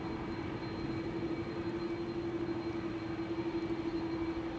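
A Compass Air Cargo Boeing 747 taxiing at Amsterdam Schiphol, heard as a distant, steady engine drone with a constant hum, faint and unbroken, with no voices.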